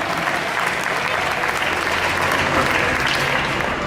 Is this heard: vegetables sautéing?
no